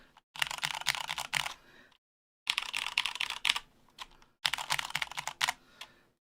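Typing on a custom mechanical keyboard, three quick bursts of clustered keystrokes separated by short silences, close and crisp with no talk.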